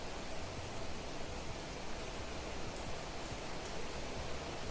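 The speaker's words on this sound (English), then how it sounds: "It is raining. I'm sorry, it's very loud." Steady, dense rainfall in a video game, a continuous loud hiss of rain with no breaks and no voices.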